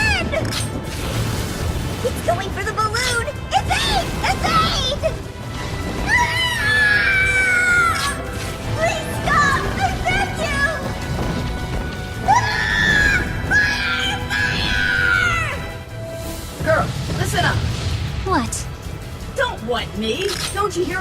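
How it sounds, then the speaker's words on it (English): Battle screams of people in the video game Drakengard 3 rise and fall in several long wailing bursts, mixed with clinking metal and loud game sounds, while voices talk over them. "Don't you hear all that screaming?"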